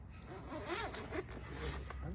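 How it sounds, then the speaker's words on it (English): A zipper on a shower enclosure being undone near the listener, a quick ratcheting rasp that rises and falls while a person speaks over it. "There's zippers here."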